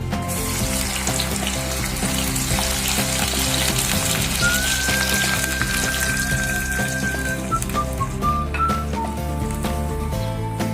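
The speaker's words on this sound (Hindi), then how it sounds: "ये देखें थोड़ी थोड़ी फ्राई होती जा रही है, इनका कलर चेंज होता जाता है।" Okra (bhindi) frying in hot oil, a dense continuous sizzle close and loud throughout, with a faint thin whistle-like tone drifting over it midway and a few clinks near the end.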